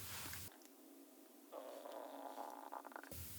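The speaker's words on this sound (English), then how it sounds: "Could you hear my stomach growl?" Stomach growling from hunger, a low gurgling rumble that swells after a short pause and churns on for a couple of seconds, faint and close to the microphone with no talking.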